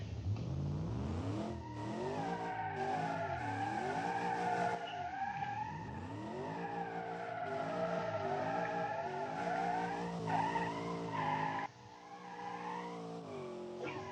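A car in the driving game BeamNG drifting, its engine revving in rising and falling sweeps while the tires squeal continuously, loud and close, with a sudden drop in intensity near the end.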